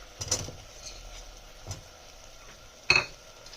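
Potato pieces dropped into a pan of blended masala over medium flame for a soya aloo curry, a few soft scattered clinks and thuds, with the sharpest clatter near the end.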